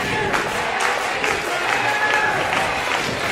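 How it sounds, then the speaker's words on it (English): An indoor wrestling crowd during a match, a continuous loud roar of cheering and clapping with no break, with a commentator talking over it. "Crowd's starting to come alive."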